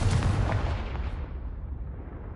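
Confringo fire spell cast in the Hogwarts Legacy video game, a loud booming blast at the start that rolls off into a fading rumble over about two seconds, with no talking.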